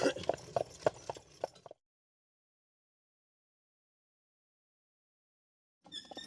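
Percheron and Belgian draft horses walk downhill on a big hill, holding back with the brakes on. Their hooves clop in a short burst, then there is silence until more steps return at the end.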